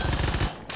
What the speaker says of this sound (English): This thing is basically just a machine pistol, but like on crack. Its fire rate is insane